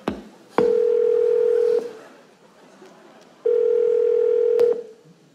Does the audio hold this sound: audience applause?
no